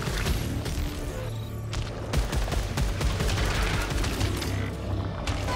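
Dense gunfire and blasts in the sci-fi shooter Returnal, a loud, busy barrage of overlapping shots and impacts fired in quick succession, close up and without speech.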